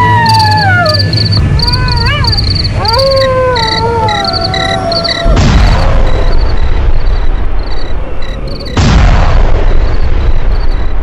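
Several deep booms burst out in a night-time audio drama near a luxury house, each loud broadband blast crashing in over a steady chirping cricket backdrop and fading slowly.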